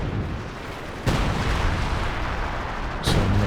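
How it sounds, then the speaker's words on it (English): Heavy artillery pounds a World War II strategy game battlefield, two deep booming impacts landing about two seconds apart over a dense rumbling backdrop of continuous distant gunfire. "Some major artillery coming in."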